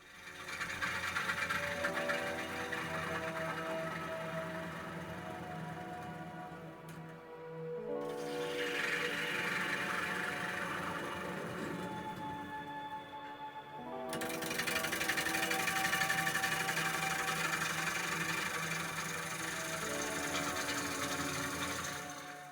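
A chisel cuts a Stithians cherry live-edge bowl spinning on a wood lathe, giving a steady rough scraping whir with tonal hum, in three long passes separated by brief pauses.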